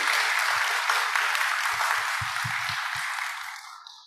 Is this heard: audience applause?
yes